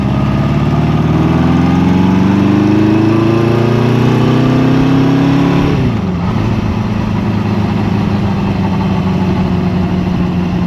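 A Honda CB350 motorcycle engine runs steadily close by, loud and continuous, with a low throbbing drone that rises slightly in pitch and then settles back to a lower idle about halfway through.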